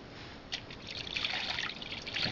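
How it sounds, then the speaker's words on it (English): Simulated water effects from a koi pond phone app: a soft continuous trickle and gentle splashing, faint and steady with slight swells of bubbling, and no voices. "Really cool water sounds."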